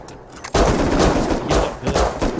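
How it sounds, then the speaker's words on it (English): Sustained gunfire in the survival game Rust during a twelve-versus-three battle, breaking in abruptly after a quieter moment and continuing as dense, loud overlapping shots with bursts swelling at intervals. "We're getting shot at."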